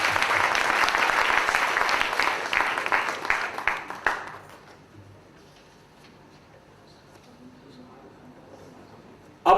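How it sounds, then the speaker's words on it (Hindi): Loud, dense applause from an audience approving seven announced names swells for about four seconds, then cuts off into a quiet room with faint murmurs. "अनुमोदना करें इन 7 नामों की जोरदार तालियों की गड़गड़ाहट से"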